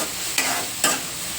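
Onions frying in a pan with salt, stirred until golden brown, give a steady close sizzle broken by two sharp scraping stirs.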